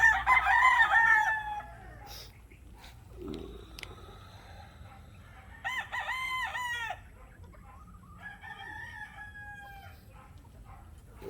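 Roosters crow several times, one loudly up close and others farther off, with brief gaps and quiet background noise between calls.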